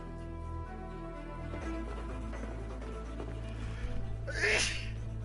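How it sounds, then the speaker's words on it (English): A single loud sneeze bursts out near the end, over game music and ambient sound from Assassin's Creed Valhalla. "I had to sneeze."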